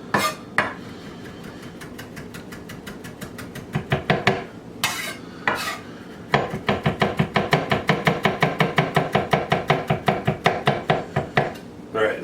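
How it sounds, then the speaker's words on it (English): A knife chops through fresh rosemary on a board, with a few scattered cuts at first, then a long run of quick, steady, close chops. The blows are fairly loud and evenly paced. "some fresh rosemary that got out of our herb garden. And we're just going to run our knife through that pretty good"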